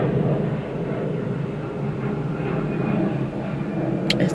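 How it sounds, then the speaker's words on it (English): An airplane drones steadily overhead as a continuous low rumble with a broad roar, holding even loudness throughout with no talking. "It's the airplane for me."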